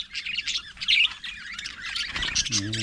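Caged birds squawk loudly and harshly in rapid, overlapping bursts with a snake inside their cage, close by and agitated, with chirps mixed among the calls.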